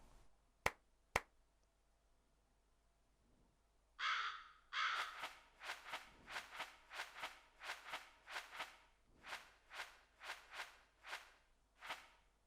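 Liaison crows caw over and over in the Demon Slayer Hinokami Chronicles video game, a rapid series of loud, harsh calls after two sharp clicks and a brief flutter, with no talking.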